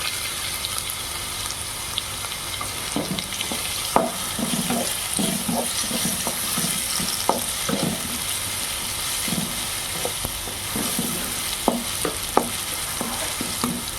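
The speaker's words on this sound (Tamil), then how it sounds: "இப்போ வந்து ஒரு கேரட் எடுத்து சீச்சு வச்சுருக்கோம், அதை போட்டுப்போம்" Grated carrot tossed into a pan of sautéed onion and stir-fried for a wheat-flour vegetable puff stuffing, with a steady soft sizzle and frequent scraping, clacking spatula strokes throughout, no talking.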